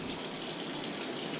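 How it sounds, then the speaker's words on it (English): Ozonated water pours from a tap in a steady, full-bodied gush, loud and close, with no talking. "This might look like ordinary tap water, but it's not."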